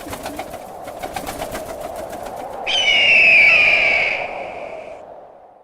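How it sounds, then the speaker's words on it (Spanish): Eagle cry sound effect over flapping wings and soft atmospheric music: a rhythmic fluttering of wings under a low sustained tone, then a loud, piercing, drawn-out screech that fades away. "Alas agitándose, el cielo abierto, un segundo de música atmosférica y luego el sonido del animal que siempre gobernó los cielos"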